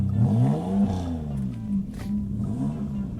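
An Alfa Romeo GTV 916 V6 engine, cold, rumbles low and revs, pitch climbing and dropping in waves, loud and close without talking.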